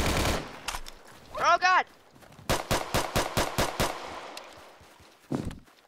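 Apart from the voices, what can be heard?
gunfire in the Roblox video game Unit 1968: Vietnam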